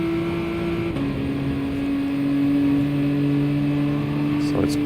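Golf race car in GT Sport holding a steady high engine drone under throttle, its tone rising and shifting slightly while slipstreaming, with a continuous hum and no talk.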